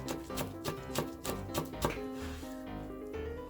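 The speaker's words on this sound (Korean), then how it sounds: "자 이렇게 얇게 채 썰어 주세요" Knife thinly shredding rolled perilla leaves on a cutting board, a quick run of crisp, evenly spaced chops close up that stops after a couple of seconds.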